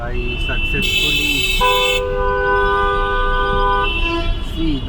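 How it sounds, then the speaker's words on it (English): Car and vehicle horns toot and honk repeatedly in busy city traffic at peak hour during the Diwali rush, some long and sustained, with road noise beneath and talking throughout. "You can hear the horn from other vehicles."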